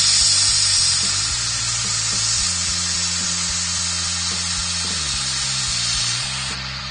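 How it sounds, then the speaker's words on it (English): An airbrush hisses in a steady, broad spray onto a sycamore platter turning on a woodturning lathe, with the lathe motor's hum beneath the hiss and the spray fading slightly at the end. "I'm pulling the pen or pulling the airbrush away, which creates a wider spray pattern and therefore a thinner coat"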